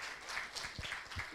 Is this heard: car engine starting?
no